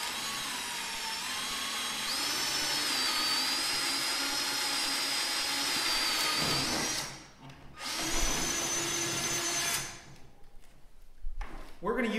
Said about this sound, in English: we're going to start drilling straight up and down on the ski itself